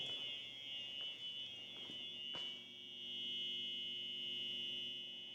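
A steady, high-pitched electronic alarm buzzes continuously inside an abandoned shopping mall, droning without pause, with a faint low hum and a few soft knocks in the background.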